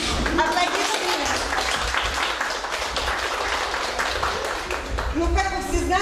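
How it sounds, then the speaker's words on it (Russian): An audience applauds at a holiday gathering in Pobuzhye, a continuous wash of clapping mixed with voices and some tonal background sound throughout. "Аплодисменты."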